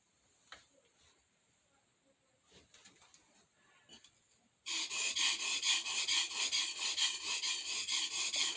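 A knife strokes back and forth across the 1000 grit side of a cheap water stone in a steady, rhythmic scraping hiss, close and fairly loud, after a few quieter scrapes and handling noises.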